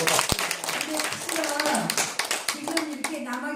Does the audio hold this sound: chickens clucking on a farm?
no